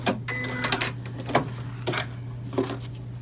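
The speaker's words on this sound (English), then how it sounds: "finish off with a back stitch" A domestic sewing machine runs short bursts of back stitching, several quick mechanical whirring stitches separated by pauses over a steady low hum.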